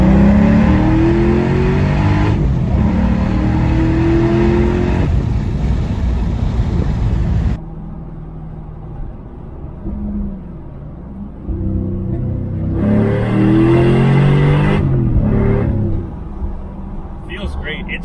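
A 2000 Ford Mustang Cobra R with a six-speed manual pulls hard from about 40 to 80 mph, its engine droning loudly inside the cabin before easing off and surging again, with occupants talking over it.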